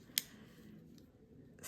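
A pair of Midori scissors gives one sharp metallic snip or click at the start, followed by quiet handling noise and a faint second tick near the end.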